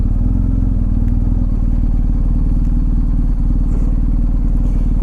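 A motorcycle on an adventure trip in Wales idles close by with a steady, throbbing low engine beat that holds unchanged throughout, no voices present.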